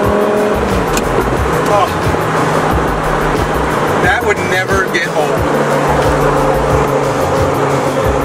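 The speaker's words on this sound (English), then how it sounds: "One of the most raw cars you could ever drive. Gated manual Gallardo, guys." A Lamborghini Gallardo with a gated manual gearbox being driven, its engine roaring loud and close throughout with gear changes and rising revs, while people talk and react excitedly over it.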